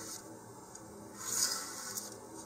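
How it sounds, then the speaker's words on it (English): Quiet rasping strokes of a model rocket part's edges being rubbed back and forth across sandpaper to remove soot, soft and close, repeated a few times. "here I'm just going to drag the edges across a few times"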